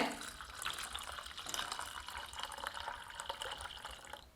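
Cooked lentil water splashes and trickles into a pot of rasam in a soft, uneven pour, quiet and close, with faint clinks.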